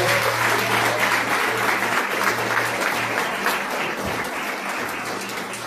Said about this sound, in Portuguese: Suas palmas para Jesus de Nazaré.